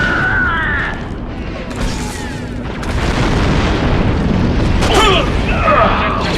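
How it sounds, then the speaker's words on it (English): A detonating charge in Star Wars Republic Commando on Switch: a loud, sustained rumbling boom that fills most of the stretch, with game effects, gunfire and voice chatter layered over it. "The charge is set and ready to detonate."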